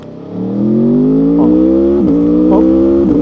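A 2025 Aprilia Tuono V4 Factory motorcycle pulls hard in first gear, its V4 engine note rising steadily and loudly from a low growl, with brief chatters and a short dip near the two-second mark before the pitch keeps climbing.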